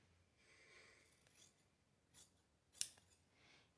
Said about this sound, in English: I'm gonna trim off the ends here.